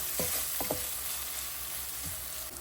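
Onions and green chilies frying in a pan with salt and turmeric, a steady close sizzle with a few soft scraping stirs of a spoon.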